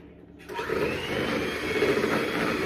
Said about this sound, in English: So I'm going to now mix all this together.